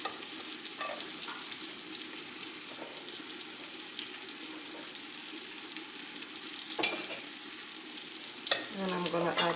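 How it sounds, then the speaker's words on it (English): Carrots frying in a pan give off a steady, soft sizzle with faint stirring clicks, close but fairly quiet, with no voices. "I'm gonna cook these carrots up a bit."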